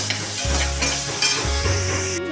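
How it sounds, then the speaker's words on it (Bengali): Prawns frying lightly in a pan on the stove, a continuous dense sizzle with a few stirring movements and shifts in the crackle, heard close up with no talking. "এখন আমি চিংড়ি মাছগুলো ভেজে নেবো।"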